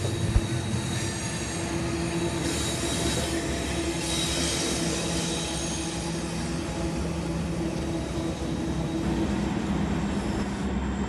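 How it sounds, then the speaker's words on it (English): A long Union Pacific coal freight train rolls past steadily, a continuous rumble of wheels and cars with faint metallic squeals, loud and close throughout. "Next up was the Union Pacific Coal train."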